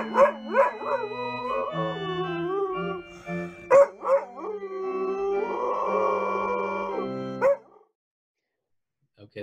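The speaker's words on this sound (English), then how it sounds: "I have a video of Checkers howling to the Wedding March in its original form" Dog howling along to the Wedding March played in its original key, long wavering howls rising and falling over the melody, with a short break near the middle and silence at the end.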